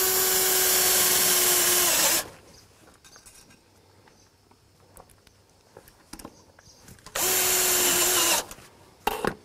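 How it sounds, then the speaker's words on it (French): A power drill drives screws to fix a spacer onto the metal frame of a slab terrace, in two loud, steady bursts of whirring separated by a quiet pause of faint handling noise. "Et je vais le visser, le maintenir par deux vis."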